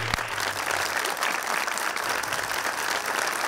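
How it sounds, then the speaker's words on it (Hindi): A studio audience applauds steadily at a Hindi-Urdu talk show after a game won by fashion designer Ali Xeeshan, dense clapping holding at an even level throughout, with no voices over it. "थैंक यू वेरी मच आपके लिए तालियां"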